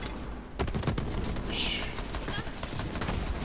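Rapid bursts of gunfire from a weapon in Borderlands 3, fired at the Jakobs Estate, sound in quick succession at close range, mixed with game effects and talk.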